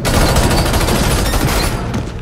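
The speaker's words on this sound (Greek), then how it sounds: "να φαίνεται μέσα από τους πυροβολισμούς των εχθρών του" Dense, sustained gunfire from a Batman film scene, continuous overlapping shots like a fusillade, loud and unbroken with no talk over it.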